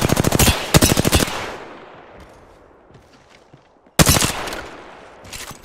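Rapid automatic gunfire in a space-combat video game, loud dense bursts that fade into a quieter tail, then a second sharp volley near the end.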